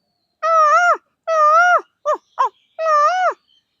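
A young boy imitates a peacock's call with his voice, giving three long wailing cries broken by two short sharp yelps, loud and close with no other sound.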